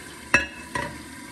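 Chole masala fries in a pan, with two short stirring scrapes over a faint sizzle, close and brief.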